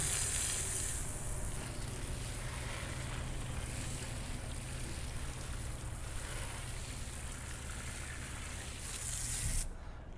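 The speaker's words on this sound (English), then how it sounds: "take your garden hose, which here I have the fireman's nozzle on it" Garden hose fitted with a fireman's nozzle spraying water to rinse a car, a continuous loud hissing rush of spray heard close and alone, cutting off abruptly at the end.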